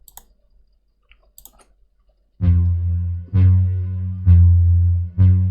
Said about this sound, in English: More of that sidechain glitching out.